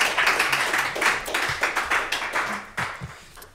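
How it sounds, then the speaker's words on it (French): A modest audience in a talk setting claps for a speaker at a Dalí-themed event at the Centre Pompidou, a steady patter of hands lasting a few seconds before it thins out. "Vous pouvez l'applaudir parce que il faut l'encourager"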